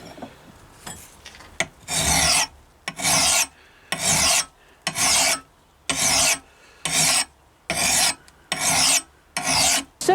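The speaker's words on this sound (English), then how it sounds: "So we'll come in with a finer file now and start just taking out some of these filing marks" A finer file rasps across a hatchet head in about nine evenly spaced strokes, each a loud, close scraping burst separated by short quiet gaps, with no talk.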